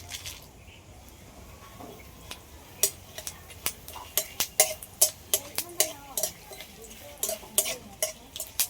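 Bay leaves, dried red chillies and whole coriander seeds are stirred in a kadai, giving a run of sharp, rapid clicking and scraping strokes over a faint, low sizzle.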